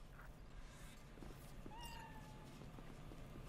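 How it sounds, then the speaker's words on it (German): A cat meows once inside the Cyberpunk 2077 game world, a short rising cry that stands out over a steady low ambient hum and background game noise. "Hier ist irgendwo eine Katze."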